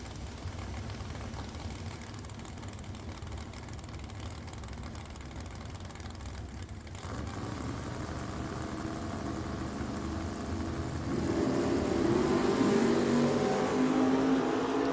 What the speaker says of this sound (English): He'll be spotting Matthew Edwards, who's leaving with a 636 prediction in the 1968 Camaro.